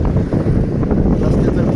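A waterfall on the Govari stream at Saptashrungi fort near Nashik gives off a steady, dense rush of falling water with constant loud roar and wind buffeting the microphone.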